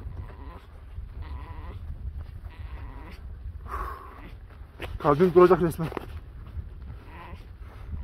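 A heavy lamb bleating loudly close by, one strong wavering bleat midway, with a person speaking and breathing hard around it outdoors.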